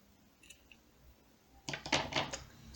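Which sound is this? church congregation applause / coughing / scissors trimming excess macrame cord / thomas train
scissors trimming excess macrame cord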